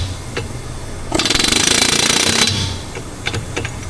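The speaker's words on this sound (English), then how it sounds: "Normally you would never use power tools to install bearings" A power tool rattles loudly in a steady rapid burst for over a second as it drives rear axle bearings into a Ram 1500 truck, then winds down, leaving faint workshop clatter and a few light clanks.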